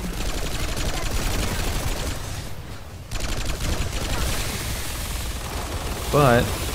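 Sustained automatic weapon fire from the PlanetSide 2 shooter game, loud and continuous, with a brief pause midway before the rapid fusillade resumes. A short reload-like mechanical sound comes near the end.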